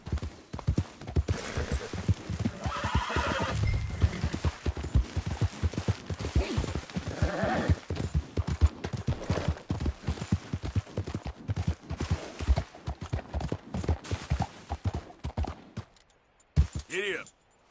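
Horse hooves clip-clop at a steady gallop with a short whinny in the Red Dead video game, and a person talks over it at times.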